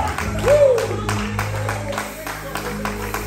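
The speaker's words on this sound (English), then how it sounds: "Can we give one more round of applause for Jesus?" A church congregation claps and cheers together in a round of applause, steady rhythmic clapping mixed with voices and a shout, close and lively.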